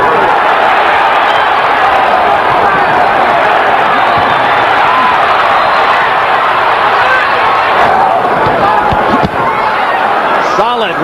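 A large arena crowd at the Michael Moorer versus George Foreman boxing match roars in a continuous loud wash, rising and swelling under a commentator's voice, with occasional sharper shouts and claps.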